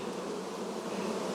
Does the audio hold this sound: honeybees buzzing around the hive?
yes